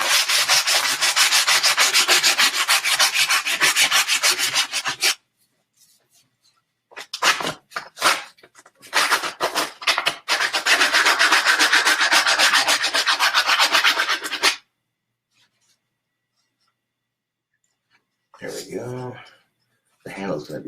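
Coarse sandpaper rubbed by hand over a wooden piece, a steady close scratchy rasp in two long stretches separated by pauses, with a brief burst of another sound near the end.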